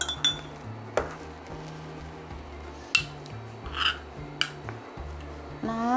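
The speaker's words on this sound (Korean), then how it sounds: "불을 끈 상태에서 이렇게 일단 지금 버무려 주고요" Utensils clink and scrape against a pot while soybean paste is mixed with the heat off, a series of close, sharp metallic taps over a low background hum.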